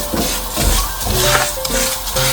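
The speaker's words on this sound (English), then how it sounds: "pour in your rice, and we're going to constantly stir this" Dry rice browning in oil for beef pilaf, stirred constantly in the pan, giving a steady close scraping and rustling with light sizzle over a faint tonal backdrop.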